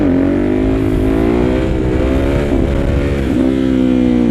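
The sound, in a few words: motorcycle engine revving during a clutch-up wheelie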